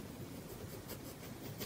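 A white gel pen scratches continuously across kraft paper while adding highlights to an architectural sketch, a close, steady scraping stroke with no speech.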